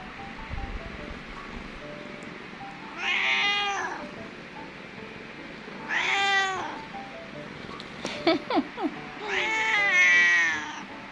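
A cat meows three times, drawn-out and plaintive, against a soft steady background hiss, with a few brief clicks between the second and third calls.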